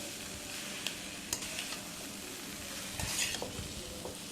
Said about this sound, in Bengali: তা ভালোভাবে কষিয়ে নিচ্ছি